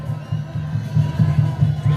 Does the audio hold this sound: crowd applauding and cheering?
yes